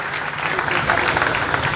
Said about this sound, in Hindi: तो कंडेरा जी के लिए एक जोरदार तालियां बता दो सारे के सारे।